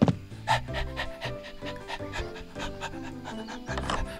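A cartoon pup in a PAW Patrol video game pants eagerly in quick, rhythmic breaths, close and clear over light game music.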